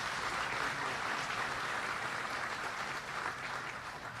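Steady, fairly faint crowd applause fills a hall during a governor's budget speech, continuous clapping with no talk over it.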